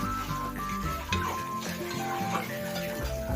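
Biryani meat with spices is stirred in a pot, with soft scraping strokes and a low sizzle under steady background music.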